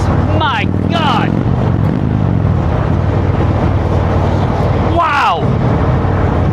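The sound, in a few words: Indian Chieftain motorcycle accelerating hard in sport mode, Fuel Moto tune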